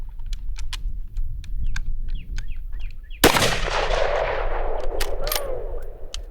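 A single loud, sharp shot from a Savage 110 Scout rifle chambered in .308 Winchester fires outdoors at moving targets, with a long ringing tail after it, preceded by faint clicks and chirps.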